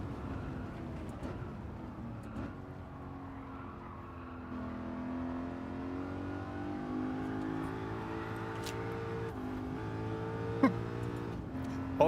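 A BMW Z8 in Gran Turismo 7 at Blue Moon Bay revs steadily through the gears, engine pitch rising and falling with faint tire squeal, playing alone at moderate volume.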